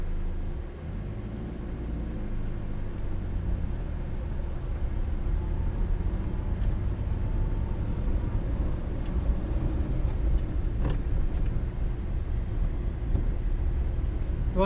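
Morris Minor car driving on a morning run, a steady low engine and road rumble heard from inside, constant throughout with a few faint clicks and rattles, no speech.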